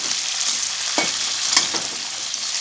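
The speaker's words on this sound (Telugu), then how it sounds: "ఒక చిన్న అల్లం ముక్కలు కోసుకొని ఈ నూనెతో పాటే ఈ నూనెలో మంచిగా వేయించుకోవాలి." Ginger pieces and green chillies frying in hot oil, a loud, steady crackling sizzle with a few sharper pops and stir scrapes, close up with no voices.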